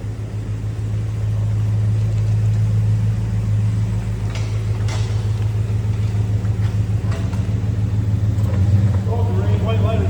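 A 1973 Dodge Charger on new raised white letter Mastercraft tires pulls away with a low, steady engine rumble that stays close and fairly loud, while people talk over it.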